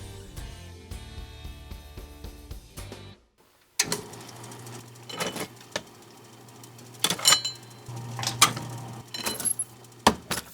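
A letterpress printing press runs with quick mechanical clacks and clicking strikes that come close and fairly loud, pausing briefly about a third of the way through before the rhythmic clatter resumes.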